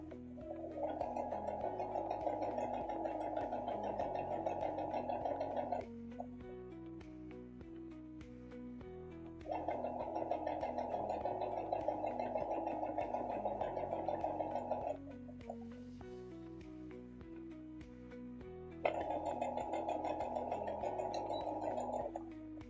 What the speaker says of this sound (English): we're going to go ahead and sew that into place as well